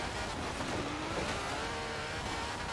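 A Ferrari sports car engine in the video game Forza Horizon 4 hums steadily at moderate volume, its pitch rising slightly as it accelerates, with no voices.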